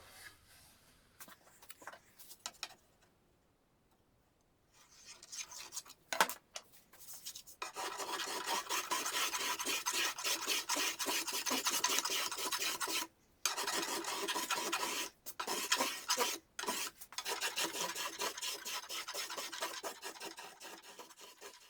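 Steady close-up rasping of a blade tool shaving down the wooden blade of a canoe paddle to thin it, long continuous strokes with a few brief pauses, after a quiet start.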